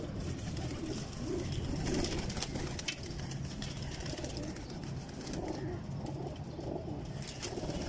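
Soft cooing from pigeons sits low under a dense, noisy background, fairly faint and continuous.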